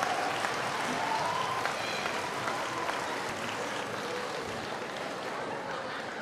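Sustained audience applause at a middle school bridge-to-high-school event, a dense, even wash of many hands clapping that holds steady, with faint crowd voices mixed in.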